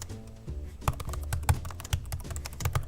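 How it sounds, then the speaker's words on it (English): Quick, uneven keystrokes tap away on a laptop keyboard, close and crisp, with a steady patter of clicks and no talking. "This is a great laptop keyboard."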